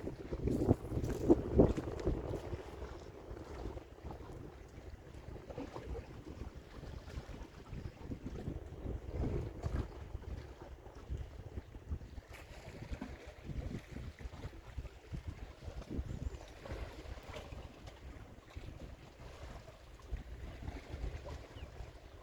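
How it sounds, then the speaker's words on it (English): Gentle water laps at the shore on Jamestown Island, a soft, uneven wash with wind buffeting the microphone, faint and continuous with no voices. "Just the sound of the water."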